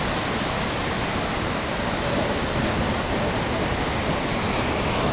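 Ocean surf rolls in at Zipolite Beach, Mexico, a steady loud wash of breaking waves that fills the whole stretch with dense, unbroken roar and no clear gaps between sets.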